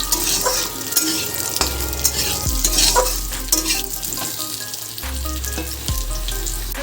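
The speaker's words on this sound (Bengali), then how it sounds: "আলুগুলোকে একটু ভালো করে আমি ভেজে নেব" Potatoes frying in a pan, a loud close sizzle with repeated stirring strokes and bursts of spatter, continuous and without any talk.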